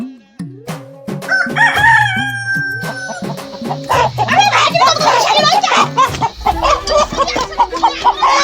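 A rooster crows repeatedly at close range, its rising, drawn-out calls overlapping with lively chatter and children's voices, followed by busy, noisy activity and clucking.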